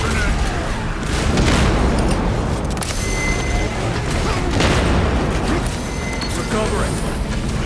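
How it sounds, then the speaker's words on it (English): Loud, dense game combat in Space Marine 2 with a grenade blast among continuous booms, clanking mechanisms and gunfire, a heavy low rumble throughout and speech mixed in. "Front grenade."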